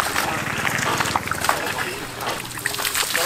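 Water sprays steadily from a homemade hand push pump, a continuous splashing hiss close by with no break through the clip.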